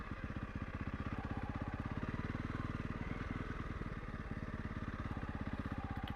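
A Honda CRF 300 Rally motorcycle idles and putters close by while being parked, its single-cylinder engine thumping in a fast, steady rhythm at moderate volume throughout.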